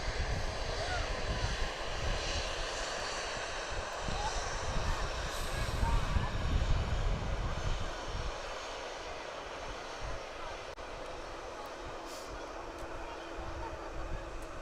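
A Lufthansa airliner at Manchester Airport gives a loud, steady broadband engine roar that swells around six seconds and then settles to a slightly quieter, sustained rumble to the end.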